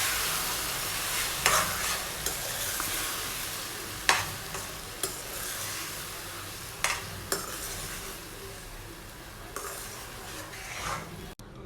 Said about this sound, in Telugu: పచ్చడి యాడ్ చేసిన తర్వాత మరొకసారి అంతా కూడా బాగా కలిసేటట్టు మిక్స్ చేసుకోవాలండి